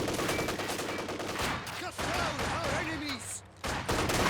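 Small arms gunfire crackles through a Company of Heroes 2 battle as dense, continuous rattling volleys under a commentator's voice, with a brief lull near the end before the shooting resumes.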